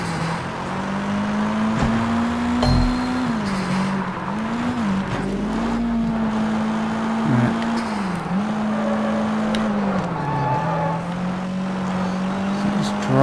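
A car driven in the video game Sleeping Dogs hums along with a steady engine tone that rises and dips as it shifts and steers, with brief thumps, continuous and fairly close.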